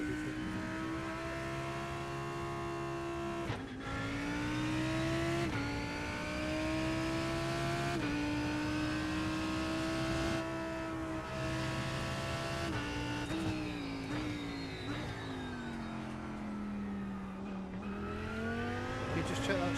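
A race car engine in the iRacing sim at Daytona drones steadily and loud throughout, its pitch rising and dipping with gear changes and throttle.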